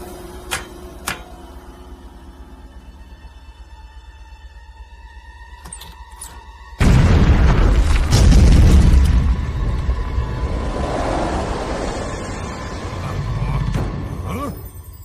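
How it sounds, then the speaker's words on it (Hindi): A cartoon explosion blasts apart a rock with a sudden loud boom followed by rumbling debris, after a few light clicks and a quiet stretch. "उड़ा दो इस चट्टान को"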